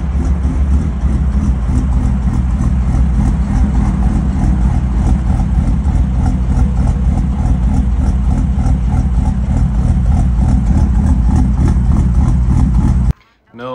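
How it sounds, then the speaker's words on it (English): A BMW N52 engine idles loudly and close with a choppy, lumpy rhythm from an aggressive-cam idle tune, steady throughout before cutting off abruptly at the end. "this makes your car sound like it has a big aggressive cam in it while you're idling"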